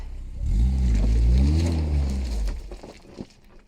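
Ariel Nomad off-road car climbing an abandoned high-altitude mountain road in the Cordillera, its combustion engine revving up hard and then falling away, loud and fairly close, with wind noise and no talk.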